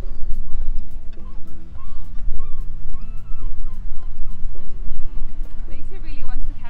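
Seagulls call repeatedly in a park near the water outside Tallinn, with loud honking cries in quick bursts close by over a windy outdoor background.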